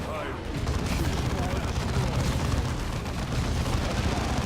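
Grenade blasts and battle noise from the Dawn of War 2 video game, a dense continuous roar of explosions and gunfire throughout, loud and busy, with voices talking underneath.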